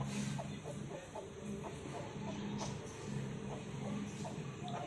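Soft clucking from a Kadaknath rooster of about 3 kg comes in short repeated notes over a noisy outdoor poultry-farm background with a faint high-pitched hum.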